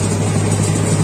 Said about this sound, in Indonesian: Terus untuk mesin choppernya sudah disiapkan.